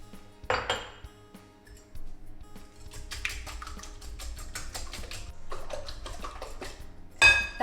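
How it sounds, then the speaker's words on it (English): Cream whisked in a bowl, with a clatter of utensil against the bowl at the start, then a run of rapid metallic ticking strokes, pausing briefly before a final sharp knock, close and clear. "And then you just give that a little whisk"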